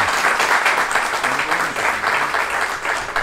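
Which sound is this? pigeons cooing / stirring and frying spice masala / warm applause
warm applause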